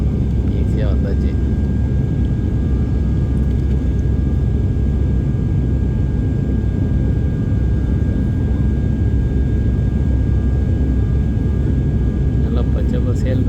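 An Indigo passenger airliner in flight from Chennai to Madurai, heard from inside the cabin as a steady, close engine roar and low rumble that stays constant throughout.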